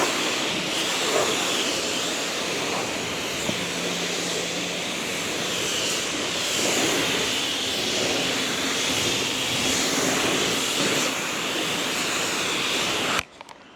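Spray wand rinsing shampoo suds off a car windshield, a loud continuous hiss of pressurized water that holds steady for the whole stretch before cutting off abruptly at the end.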